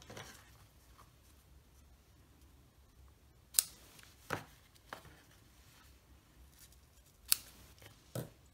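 Scissors snip ribbon tails on a handmade card, giving a few sharp, quiet cuts spaced a second or so apart at close range against near silence.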